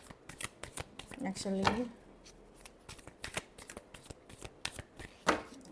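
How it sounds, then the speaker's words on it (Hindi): Tarot cards are shuffled in quick bursts of crisp riffling and slapping, close-up, while someone speaks briefly over the shuffling. "Last shuffle."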